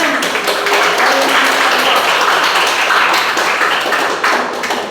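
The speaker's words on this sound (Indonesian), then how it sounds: "Tepuk tangan" A crowd claps continuously and evenly through the whole stretch at a religious school lesson session honoring a mosque gathering, dense pattering applause with no gaps and no speech.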